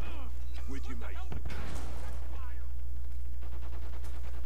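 Bursts of automatic gunfire in Modern Warfare 3 crack through a steady low rumble, with a sharp loud shot near the middle and radio-style voices talking over much of it.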